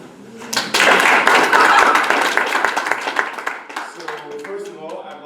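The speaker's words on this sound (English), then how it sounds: "If you're happy to be here and you know it, clap your hands." An audience at a conference session claps hands in a dense, loud burst that gradually thins out, followed by a voice and a few scattered claps.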